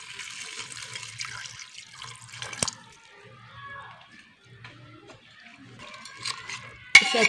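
Water poured from a large cup into a pot holding chopped onion, red chilli, ginger, garlic, coriander, cumin and salt for chicken shami kabab, heard as a close splash and trickle with a sharp knock partway through.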